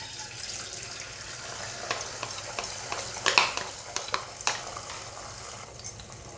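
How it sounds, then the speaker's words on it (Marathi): Beaten eggs hit hot oil in a wok for chicken fried rice, a quiet sizzle broken by sharp spatters and stirring scrapes that cluster around the middle. "अंडी आपली अशी फेटून झाली आहे आता आपण ही ह्या कढईमध्ये घालूया"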